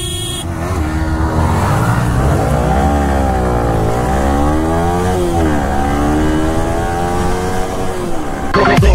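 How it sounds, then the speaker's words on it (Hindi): Yamaha R15 V3 and R15 V4 sport motorcycles rev hard, very loud and close, in a drag race. Engine pitch climbs and drops repeatedly across several gear changes in a continuous snarl. "सो फाइनली इन लोगों की रेस होने वाली है।"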